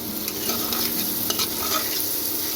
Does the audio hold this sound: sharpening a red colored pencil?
no